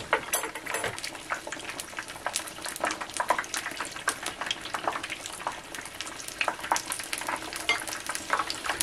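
Battered cod pieces, no more than three at a time, fry in hot oil with a steady, dense crackle and sizzle. Sharp pops rise from it throughout, close and even in level, with no talking.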